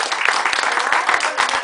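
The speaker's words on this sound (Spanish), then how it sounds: "Le damos un aplauso para que se lo pide." An audience at a political party community gathering breaks into applause for a welcomed guest, a dense, continuous burst of many clapping hands with no talk over it.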